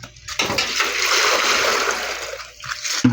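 Water pours steadily into a laundry tub, a continuous splashing rush that stops abruptly near the end.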